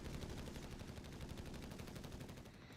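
Sustained machine gun fire from a Company of Heroes 3 match, a dense rapid burst of shots running steadily for nearly three seconds before easing off slightly at the end, with no voices over it.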